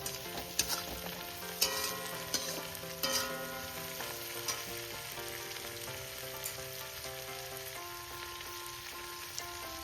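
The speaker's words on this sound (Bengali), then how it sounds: "এবার আমি এর মধ্যে দিয়ে দেবো বেটে রাখা পোস্তটা" Ground poppy seed paste frying with spring onions in a pan, a loud crackling sizzle throughout, with sharp clinks and scrapes of stirring early on, no speech.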